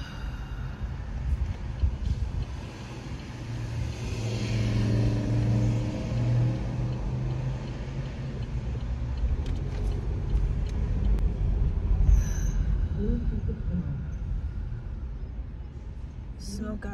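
Cars rumble past at low speed in a drive-thru lane beside a pedestrian walkway, a steady close engine drone with a swell of passing vehicle noise and people talking over it.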